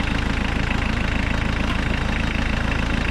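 A Ford Ranger engine runs after a cold start following two years of sitting, a steady, loud idle with a rough pulsing rhythm and no voices.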